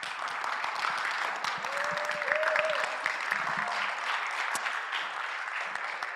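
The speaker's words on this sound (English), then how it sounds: "and a round of applause for them," An audience at a general assembly meeting claps in sustained applause, a steady wash of many hands throughout, with a faint voice briefly audible underneath.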